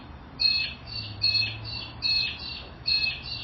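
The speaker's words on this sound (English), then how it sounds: "Sounds like the birds agree." Birds squawk in four short, evenly spaced bursts of harsh, high calls, moderately close against a quiet low background hum, with no speech.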